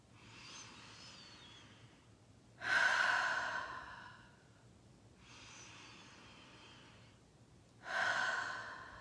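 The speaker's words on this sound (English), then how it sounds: "Find yourself taking some nice, deep settling breaths." Two deep, slow breaths, each a long quiet inhale followed by a louder, fuller exhale, close and calm with no talking, during a relaxed guided meditation.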